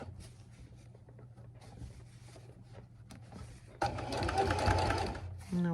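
A sewing machine stitches a zipper pouch with pockets: quiet handling and fabric rustle, then a loud, fast run of stitching bursts in near the end before stopping.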